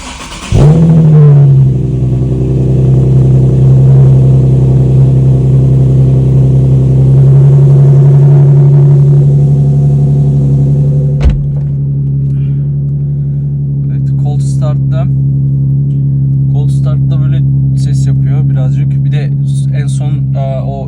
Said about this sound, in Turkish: Arabayı çalıştırayım.